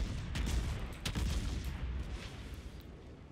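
Warship guns fire salvos in the naval combat game World of Warships. Several sharp booming blasts ring out in quick succession and then trail off into a rumbling tail, fairly faint overall.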